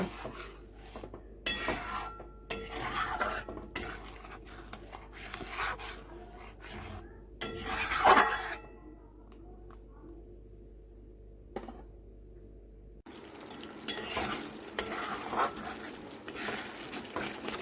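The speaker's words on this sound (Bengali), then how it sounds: "কাজু পোস্ত দিয়ে তারপর এটাকে ভালো করে কষিয়ে নেব।" Masala with cashew and poppy seed paste is sautéed in a pan for a jackfruit and potato curry, producing intermittent close scraping and rubbing strokes of a spatula, with one louder clatter midway and quieter pauses between bursts.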